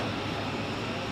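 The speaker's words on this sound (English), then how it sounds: "A nice and long takeoff roll." Airliner jet engines roar steadily in a broad, unbroken rumble during a takeoff roll at Zurich Airport, heard at moderate distance with no talking.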